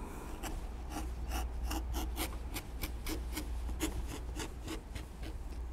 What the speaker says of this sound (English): we'll use a number 3 edge beveler, and we will bevel the edges all the way around, top and bottom